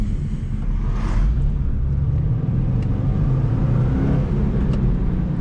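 A Subaru WRX STI engine drones and rumbles steadily as it accelerates, a continuous low roar with no talking.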